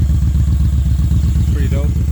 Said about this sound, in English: You can hear the intake pulling the air in from here.